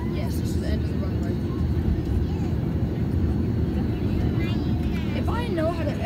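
Airliner cabin rumble while the plane sits at the end of the runway before takeoff, a constant loud low engine roar with passengers talking nearby.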